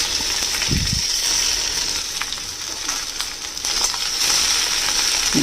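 Sliced ivy gourd (kundri) frying with chillies in a pan gives a loud, steady close sizzle with a bright hiss, plus a low thump or two as pieces shift, and no talking.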